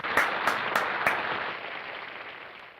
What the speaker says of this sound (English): let's just take a moment to give a round of applause to this Bears defense